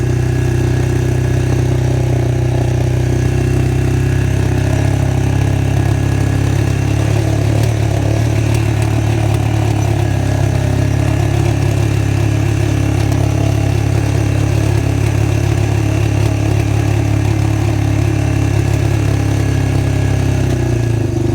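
A motorcycle engine drones loudly and continuously as the bike runs downhill, a steady heavy rumble with wind noise from the rider's point of view, its muffler holed. Nobody talks over it.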